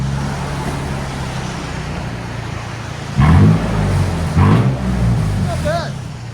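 A 2007 Toyota FJ Cruiser 4.0L V6 with straight pipes and a muffler delete idles in pouring rain, then gives two sharp throaty revs that boom loudly and settle back, close by, with speech-like noise mixed in.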